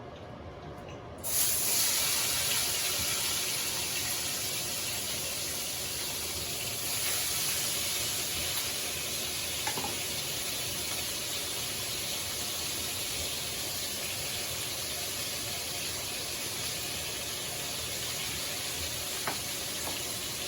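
Peppers and onions cook in a pan for shakshuka with a steady, close sizzle that starts suddenly and continues evenly, with a few faint clinks over the constant frying hiss.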